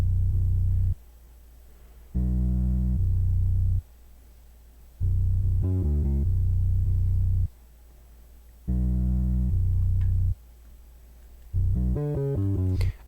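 A NY drill beat pattern with short sliding bass notes, booming 808 blocks alternating with gaps and quick stepped slides, played alone without vocals.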